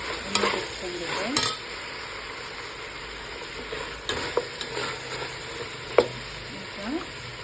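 Masala for Lucknow mutton biryani frying in hot oil, stirred with a spoon in steady sizzling bursts; scraping strokes stand out near the start and again around the middle and end, close and moderately loud.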